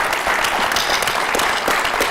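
Steady applause from a conference audience at a Bitcoin mining event, a dense, even wash of clapping filling the whole stretch with no pauses.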